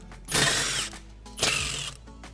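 An impact wrench with a 1/2 inch socket spins bolts off a dust shield plate during a Chevy C10 front suspension job, two short buzzing bursts close up with a brief pause between them.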